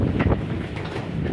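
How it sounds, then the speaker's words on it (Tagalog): Strong wind at Durie Hill in Wanganui, New Zealand, roaring and buffeting loudly and continuously in brief gusts, with no talk. "Lakas ng hangin eh."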